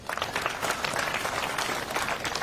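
Students at a Kenyatta University political meeting applaud together in dense, steady clapping that stays loud and fills the hall throughout, with no speech over it.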